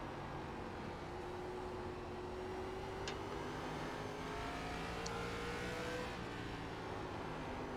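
A stock car engine in the iRacing ARCA Menards racing game drones steadily under broad road noise, its pitch slowly climbing and easing, fairly faint and with no talking.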